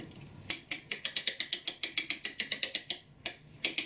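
Rapid, crisp ratchet clicks run in an even series, pause briefly, then resume as a clamp winds up an American clock mainspring and takes up its tension, close and moderately quiet, with no voices.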